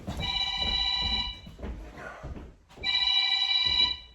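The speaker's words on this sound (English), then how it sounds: "There's the work phone" An office work phone rings in two long electronic bursts with a pause between, loud and close in a quiet room.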